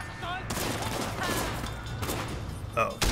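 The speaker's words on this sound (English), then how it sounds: "Who's shooting me?" A rapid volley of gunfire in Sleeping Dogs: Definitive Edition rattles on for nearly three seconds, loud and continuous, followed by a short voice and a final shot.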